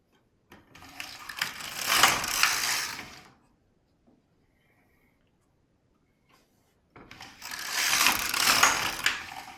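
The carriage of an LK1 knitting machine slides across knitting a row of a sock, two separate rasping, clattering passes of about three seconds each with near silence in between.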